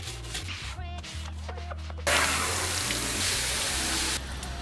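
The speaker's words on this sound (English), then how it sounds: "So we're gonna scrub the van out." Water gushes and splashes while a dirty, mud-caked van interior is scrubbed out, a loud burst of rushing spray following softer scraping and rubbing, with no voices.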